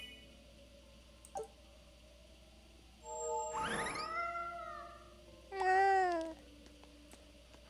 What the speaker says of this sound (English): You found a cat.